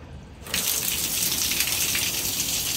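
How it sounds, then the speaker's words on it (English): Shower water gushing from a bare pipe in a beach club bathroom, a steady loud hissing stream that starts abruptly and runs continuously without talk. "and there's the shower."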